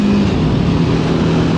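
Road traffic passing close by on a suburban street: a loud, steady, broadband rumble of a vehicle going past, brief and continuous, with no voices.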